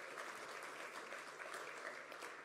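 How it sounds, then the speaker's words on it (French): Faint, steady applause from a congress audience honouring the event's logistics team, a continuous patter of many hands lasting a couple of seconds without talk. "Je vous demande de les applaudir."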